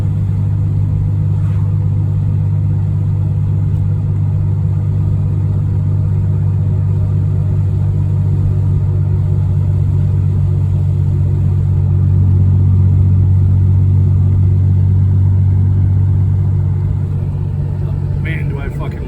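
A 1990 Oldsmobile Cutlass Supreme with a worn transmission drives along, its engine a steady low rumble and drone heard from inside the cabin, rising slightly in intensity midway, with some faint interior noises near the end.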